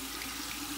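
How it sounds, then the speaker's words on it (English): Cold water running from a bathroom tap over an alum block during a wet shave, a short steady splashing gush of faucet flow at close range with no voices. "And we're just gonna run that under cold water and just run that over the face."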